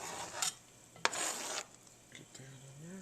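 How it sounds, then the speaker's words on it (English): Diced onions and green peppers hit a hot pan, giving brief scraping and stirring bursts followed by a soft sizzle, quiet and close, with a faint voice speaking near the end. "Now I'm going to add our onions and green peppers that we diced up."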